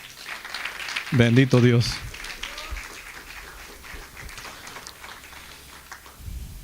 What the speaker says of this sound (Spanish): ¿Cuánto le da un aplauso al Señor?